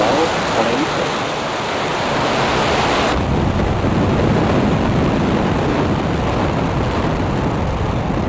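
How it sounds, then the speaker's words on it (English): A SpaceX Falcon 9 rocket lifts off carrying the NROL-186 payload, a dense, continuous roaring rumble like heavy surf that keeps up unbroken and fairly loud throughout. "Ignition. And liftoff Falcon 9, go SpaceX, go NROL-186."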